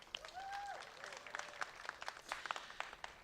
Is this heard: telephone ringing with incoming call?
no